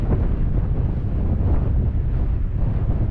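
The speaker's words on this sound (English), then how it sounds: "there comes that wind again, man." Strong wind on an early spring hike in Mongolia, roaring steadily and loudly across the microphone with no letup and no voices.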